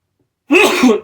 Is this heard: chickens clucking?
no